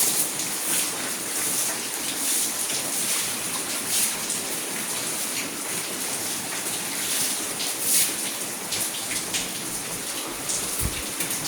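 Continuous rain patters close by, a constant hiss of many small drops with occasional brighter splashes.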